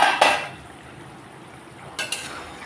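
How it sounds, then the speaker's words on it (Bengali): A metal lid comes off a cooking pot during a Bengali prawn curry preparation, giving a short clatter at the start and another clank about two seconds later, with quiet kitchen background in between. "ঢাকনা খুলে দিলাম।"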